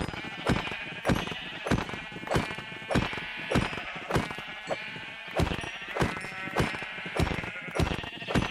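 Sheep in a video game bleat over and over in a dense, overlapping flock, loud and close, with sharp repeated calls for several seconds and no speech.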